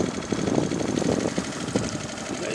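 A boat motor idles on the Vecdaugava river in winter, giving off a steady low rumbling throb with uneven knocking pulses, close and alone with no voices.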